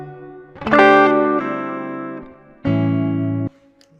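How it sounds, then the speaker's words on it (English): An electric guitar played through a Digitech Hardwire RV-7 stereo reverb pedal on the hall setting rings out in loud sustained chords, each swelling and then trailing off into a long, spacious decay with brief quiet gaps between them. "Goes for quite a while on the hall."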